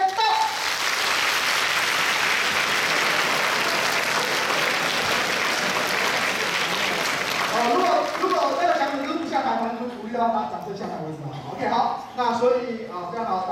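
An audience at a COSCUP 2016 lightning talk session breaks into dense, loud applause that carries steadily for several seconds, then fades as a speaker's voice takes over.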